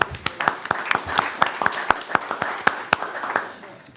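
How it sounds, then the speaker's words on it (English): A town select board meeting audience applauds students, a scattered run of sharp handclaps from a small group over a steady room background. "We're going to give them applause."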